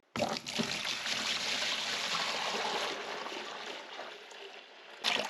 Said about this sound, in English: Time to get it filled with water.